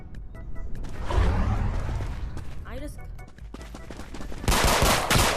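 Rapid gunfire in a Roblox VR shooter game, bursts of sharp shots crackling under a speaking voice, ending in a dense, loud volley.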